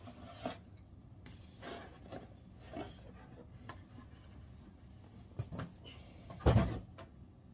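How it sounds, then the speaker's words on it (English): Cardboard box of a Corsair iCUE H100i Pro XT CPU liquid cooler being opened, with quiet scattered rubs, scrapes and flap taps and a louder rustle near the end, close and sparse without talk. "so we're just going to open the box."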